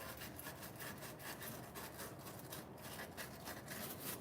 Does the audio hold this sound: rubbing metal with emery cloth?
yes